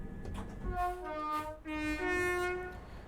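A train horn in the railway simulator Train Sim World 6, on the West Coast Main Line between Birmingham and Crewe, sounds two loud sustained tonal blasts over the low rumble of the locomotive, without any talk.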